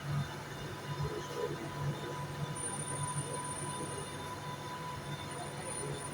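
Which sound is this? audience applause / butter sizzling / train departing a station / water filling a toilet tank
train departing a station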